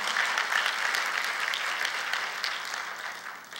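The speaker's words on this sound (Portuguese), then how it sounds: "Vamos dar um aplauso a Jesus?" A crowd claps steadily and loudly for a few seconds, a dense patter of applause that tapers slightly at the end.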